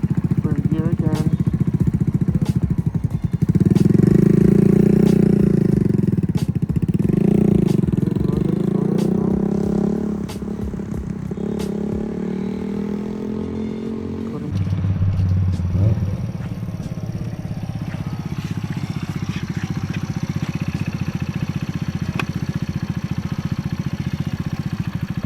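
A Kawasaki Z125 motorcycle pulls away in first gear, its small engine droning loudly and rising in pitch before easing off, with a short lower burst partway through as the bike moves on.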